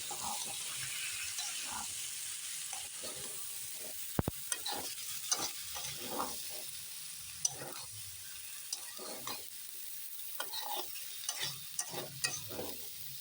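Chickpea ghugni is stirred in a pan, giving quiet wet scraping and sloshing strokes with light clacks over a low sizzle and no talk.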